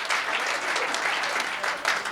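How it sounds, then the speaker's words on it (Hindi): A large audience at a Hindi comedy performance applauding steadily, dense clapping that holds at a constant level throughout. "एक बार पूरा सदन जोरदार तालियां।"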